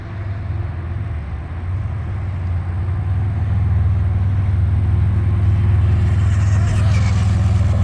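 A Traxxas Mini Rally Ford RS200 RC car makes a speed run. Its motor gives a continuous whining drone that grows louder and more intense midway through, with wind hiss over it.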